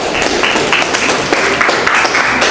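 A classroom audience claps together in dense, continuous applause that stays loud and even for a couple of seconds.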